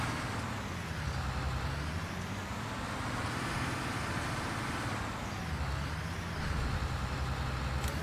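A combine harvester cutting oats in Farming Simulator 19 drones with a steady, loud engine hum and rumble, its pitch dipping and rising slightly as it turns, with no talk over it.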